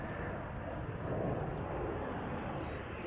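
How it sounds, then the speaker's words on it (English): An EasyJet A319 takes off from the centre runway at Amsterdam Schiphol bound for Milan, a broad, distant rumbling roar holding steady throughout under faint wind-like noise. "A319 EasyJet to Milan. Just now took off from center."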